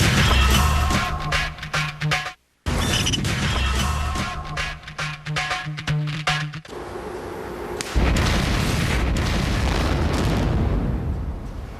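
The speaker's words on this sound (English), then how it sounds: "It's too early to say if it was a successful blast, but the sound was good. You could hear a long rumble." An underground blast goes off inside the Hallandsås Ridge rail tunnel, giving heavy bursts and a long, dense rumble. The rumble roars on loud and close for several seconds, briefly cuts out, then continues as a rough, sustained rushing noise.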